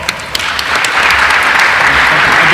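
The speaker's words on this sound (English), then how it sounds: "Give him a big round of applause" A hall full of people applauds a newly named official at a youth state government convention, a dense, loud wash of clapping that builds and holds steady throughout.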